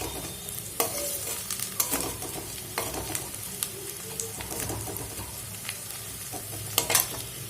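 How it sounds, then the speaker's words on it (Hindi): Chopped onions frying in oil in a pan as they are browned for a tempering, with a constant soft sizzle and repeated sharp scrapes and clicks of a spoon stirring against the pan. "तो प्याज को अच्छी तरह से लाल कर लीजिए"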